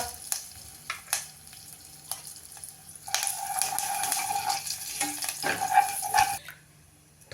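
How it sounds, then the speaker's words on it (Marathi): Water pours into a hot pan of ghee with cumin, curry leaves and asafoetida, setting off a loud sustained hiss and bubbling for a few seconds after scattered clinks and stirring sounds. "थोडस अर्धी वाटी पाणी यात घालते म्हणजे ते पाणी कोंबट होईल"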